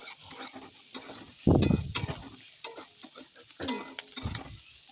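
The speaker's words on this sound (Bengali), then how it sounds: "এবার ওর মধ্যে চেরা কাঁচা লঙ্কা আর আদা বাটা দিয়ে আর একটু নেড়ে চেড়ে হালকা ভেজে নেব।" Vegetables for spinach ghonto frying lightly in a pan with slit green chillies and ginger paste, stirred in bursts of scraping and clattering over a soft sizzle.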